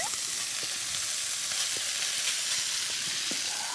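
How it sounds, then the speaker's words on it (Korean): Cooked rice stir-frying with abalone in a pan for abalone-gut fried rice, a steady close sizzle and crackle running throughout with scattered scraping stir sounds. "이때 밥을 같이 넣고 볶을 거예요"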